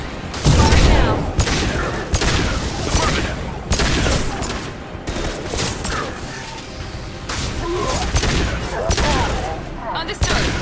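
Rapid bursts of gunfire from a firefight in Mass Effect 2, set on Insanity difficulty, with loud repeated volleys and booms running almost nonstop while in-game voices speak between shots.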